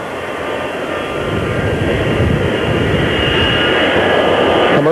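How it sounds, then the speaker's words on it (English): A commercial jet landing at a Dallas airfield in 1963 makes a sustained, loud engine roar that swells gradually as it continues, filling the scene without a break. "Commercial jet is now landing"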